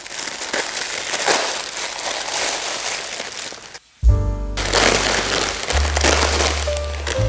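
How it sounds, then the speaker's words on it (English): Steady, close crinkling and crackling of plastic wrapping around a car sunshade for several seconds, then a brief pause before more rustling and handling noise. "So I think I might just have to tear this open to get to the instructions"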